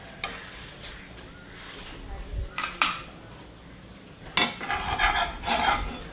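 A knife cuts through toasted bread on a serving plate in a few crisp bursts, with crunchy scraping and sharp clinks against the plate, up close, while a voice talks lightly underneath.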